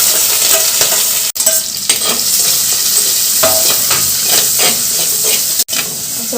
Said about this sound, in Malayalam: ഇഞ്ചിൻ്റെ ഇതൊക്കെ ഒന്ന് 2 മിനിറ്റ് വഴറ്റും.